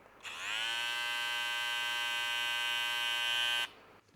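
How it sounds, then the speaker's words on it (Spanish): A JUCAIMAX PhantEcho 2.0 hair trimmer switches on and runs alone for about three seconds with a steady, bright electric buzz at close range, then cuts off abruptly. "Y ese es el sonido de la máquina sin ninguna clase de edición"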